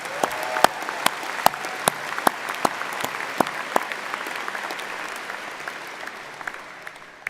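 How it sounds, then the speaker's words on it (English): Steady applause from a large audience at a Warner College of Natural Resources commencement ceremony, dense clapping with sharper individual claps standing out, holding for several seconds before slowly fading. "Let's have another round of applause"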